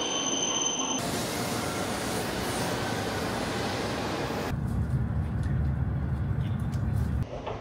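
A bullet train rolls into a station in Japan, a broad rumbling rush of wheels on rail that swells and then shifts to a deeper low roar, steady and moderately close with no talk.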